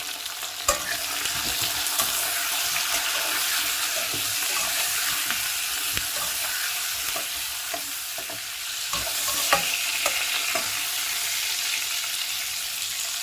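Green jackfruit pieces sizzle steadily in hot oil with turmeric and salt, a loud continuous frying hiss with scattered pops and crackles and occasional clinks of stirring, no voices.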